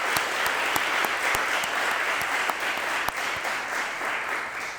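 Audience applause at the 2021 Kyle State of the City address, honoring school district and county partners: steady, dense clapping from a large crowd filling the hall, with a few sharper individual claps standing out.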